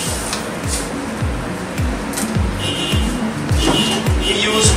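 A cacao winnowing machine with a vacuum fan separates light shells from broken cacao seeds, giving a loud, steady mechanical whir with a regular repeating thump and rattling of shells and seeds.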